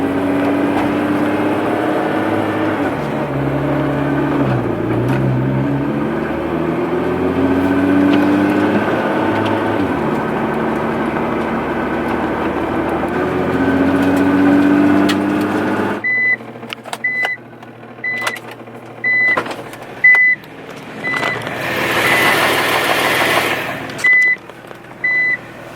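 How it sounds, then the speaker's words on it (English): A straight-piped Nissan GT-R idles with a loud, rough exhaust rattle and a rising screech, then its reverse warning chimes in a steady run of evenly spaced beeps over a choppier engine. "Hopefully you can hear that kind of screeching noise."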